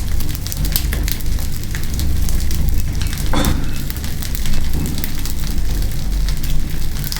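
A night campfire crackles and pops loudly up close, with dense irregular snapping over a low steady rumble and no talking.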